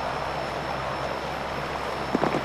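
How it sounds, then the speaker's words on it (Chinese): A fixed-wing airplane's engines give a steady, loud broadband roar that holds evenly throughout, with a few brief rising bursts near the end. "飞机检查完毕，可以起飞"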